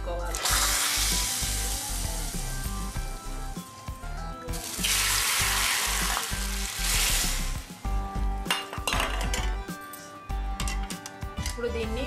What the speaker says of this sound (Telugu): ఈ పోపుని చారులో పోసుకోవాలి.